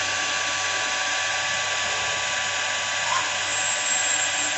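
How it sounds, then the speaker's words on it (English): A steady, high-pitched mechanical whine with a broad hiss runs continuously as a lathe drills out a hole in a metal bushing, with no talk. "So we're just going to drill out that hole."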